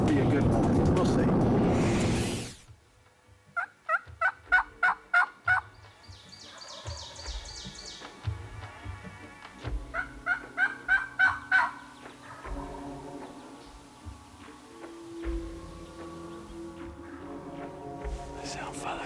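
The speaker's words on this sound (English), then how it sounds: "Got 2 or 3 turkeys gobbling." Wild turkeys gobble in the woods in the early morning. Two or three birds answer in repeated rattling bursts, one loud volley after another with pauses between, fairly close and clear.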